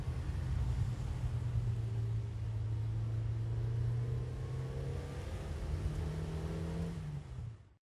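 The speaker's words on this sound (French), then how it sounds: "On entend les premières voitures dans le lointain." Early-morning cars pass in the distance across the Vallée du Goëlo at Ploufragan, Côtes d'Armor, a steady low rumbling drone of engines with slowly shifting pitch. It stays faint and far away, then fades out at the very end.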